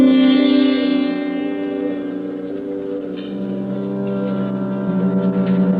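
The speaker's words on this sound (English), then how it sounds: "I used to love the sound of foghorns on the bay, especially at night" A foghorn wails on the bay in a radio-drama sound effect, a long, low, echoing tone that slowly shifts pitch. Lonely and reverberant, it plays alone with no voices.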